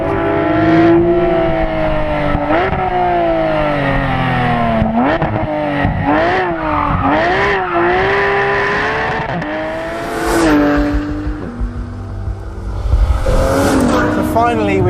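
A Porsche 911 GT3 engine revs hard and loud, pitch rising and falling through repeated gear changes as it drives fast, with brief bursts of acceleration.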